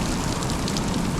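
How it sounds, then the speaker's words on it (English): Hail and rain from a spring storm fall steadily outdoors, a dense, even hiss of drops striking surfaces with no break, loud and close, and no voices. "We got some hail for a while"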